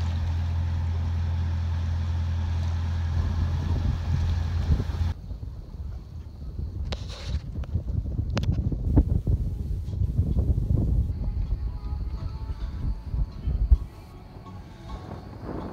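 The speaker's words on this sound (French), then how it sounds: "Là, on a le vent du nord-est dans le pif." Northeast wind blows hard across a boat at anchor in a bay, a loud steady roar that drops away partway through, then returns in gusty buffets against the microphone.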